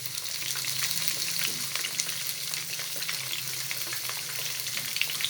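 Fish fries in a pan on a medium flame for a korma, giving a continuous close crackling sizzle with small popping spatters throughout.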